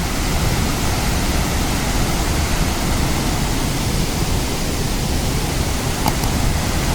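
Thoovanam waterfall in Chinnar forest near Munnar roars steadily and loudly throughout, a dense constant rush of pouring water with no voices.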